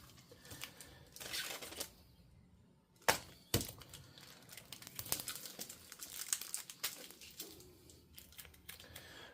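Plastic tape being pulled and wrapped around the foam of a padded Amtgard practice bat, with close crinkling rips and sharp snapping bursts, two loud cracks near the middle, steady handling rustle and no talk.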